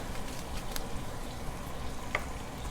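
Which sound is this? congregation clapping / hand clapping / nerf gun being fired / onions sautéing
onions sautéing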